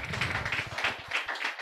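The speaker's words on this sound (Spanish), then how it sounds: "Y le damos un fuerte aplauso a los cumpleañeros." A church congregation applauding the birthday people, a dense continuous patter of many hands clapping together, steady and fairly close.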